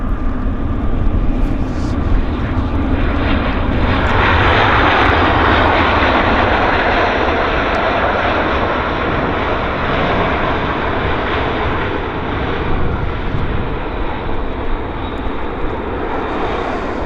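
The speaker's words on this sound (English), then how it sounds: "Here is our CRJ." CRJ regional jet airliner on a wet runway at Vancouver airport in heavy rain, a loud sustained engine roar that swells and holds, with hissing spray and rain noise, no talking.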